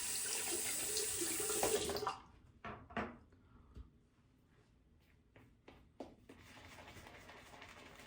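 Water gushes from a tap in a loud, steady stream for about two seconds during wet shaving, then cuts off, leaving scattered drips and small splashes in a quieter room.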